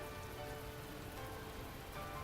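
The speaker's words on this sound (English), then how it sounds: "The streaks of rain have only grown larger and more frequent." Heavy rain pours down steadily in The Fruit of Grisaia visual novel, a dense, even wash of drops on surfaces with no voices.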